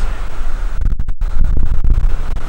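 Steady wind buffeting the microphone, a constant low rumbling roar with gusty surges and brief dropouts, no voices.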